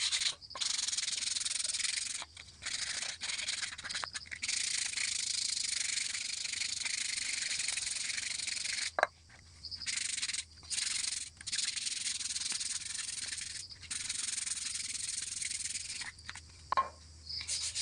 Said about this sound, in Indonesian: kita pakai amplas halus ya